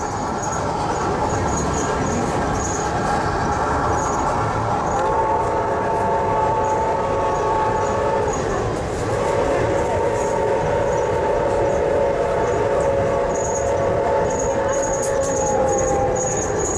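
A Reading and Northern passenger train runs steadily along the tracks between Port Clinton and Jim Thorpe with continuous rumbling, and a sustained horn-like tone sounds through the middle, loud and fairly close.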